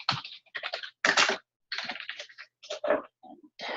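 Someone types on a computer keyboard in short, irregular bursts of keystrokes separated by brief pauses, fairly quiet and close.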